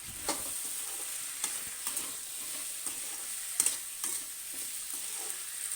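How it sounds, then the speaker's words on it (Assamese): Spices sizzle steadily in a hot pan while a catfish curry is being cooked, with small stirring clicks now and then and no talking. "এইখিনি এতিয়া অলপ সময় ভাজিম।"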